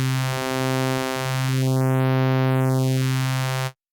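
A bright, buzzy synthesizer tone runs through a bandstop filter whose notch sweeps smoothly upward and then back down, giving a hollow, phasing shift to the steady sound before it stops sharply.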